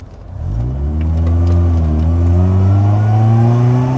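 A modified supercharged Mercedes SLK 200 R170 with its M111 engine revs up through the exhaust, a loud, close rising drone that climbs and holds steady for several seconds.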